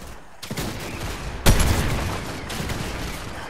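Sniper fire in the shooter game Fortnite, played in first-person mode. Two sharp, sudden shots about a second apart, the second louder, ring out over a continuous wash of in-game ambience.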